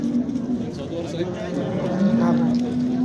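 A cow moos at a livestock market, one drawn-out low call rising in pitch toward the end, close and loud, with faint market murmur around it.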